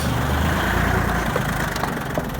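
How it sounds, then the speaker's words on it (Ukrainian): Small Japanese mini tractor engine idles steadily while warming up, a loud, close, continuous low rumble with a faint mechanical rattle and no voices. "Прогрівся трошки трактор, он вже капля і сивий дим пропав."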